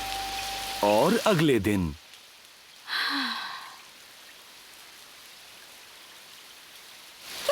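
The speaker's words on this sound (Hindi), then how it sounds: "क्या रेनकोट पहनने से काम नहीं चलेगा? ऐसी बारिश में?" Heavy rain falls as a steady hiss through a cartoon scene, faint under a voice that speaks briefly near the start, with short musical tones before it.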